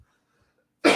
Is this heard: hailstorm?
no